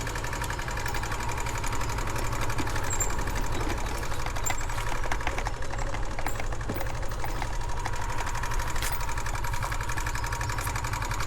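A parked motorcycle engine idles steadily and close by, a constant mechanical drone with a faint ticking texture, during a ride on the old Kiulu road in Sabah.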